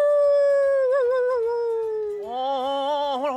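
A human voice imitates a dog's howl during a live broadcast for a Puyo Puyo Quest event, one long wavering, sliding tone that drops and then rises again, loud and close.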